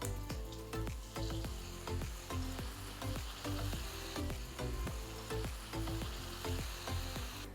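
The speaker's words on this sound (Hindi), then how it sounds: "अब सिंपली इसे हमें डीप फ्राई करना है।" Thin tortilla nachos deep frying in medium-hot oil give a continuous close sizzle with rhythmic bursts of bubbling and stirring clatter, loud and unbroken, with no voices.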